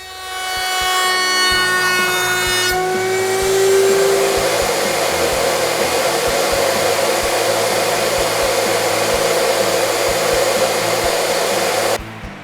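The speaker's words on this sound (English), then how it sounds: "I trimmed off the excess at the router" A router trims excess plywood from a floating torsion box shelf, a loud continuous motor roar with a high whine dropping in pitch as the cut begins. It holds steady for about twelve seconds, then cuts off sharply.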